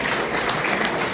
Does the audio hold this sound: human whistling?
no